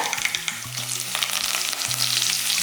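Curry leaves crackle and fry in hot oil for a dried-fish curry, a dense continuous sizzle with sharp pops throughout, close and loud, with a steady low hum beneath and no talking.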